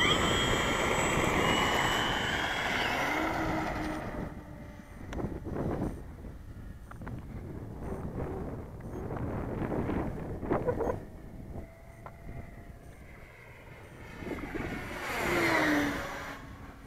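An E-flite T28 electric RC airplane, 1200mm span on a 4-cell pack, whines with a motor pitch that climbs and falls as it passes. The sound fades and returns in surges, and a close swoop comes near the end.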